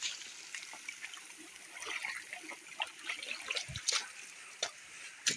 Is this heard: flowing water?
yes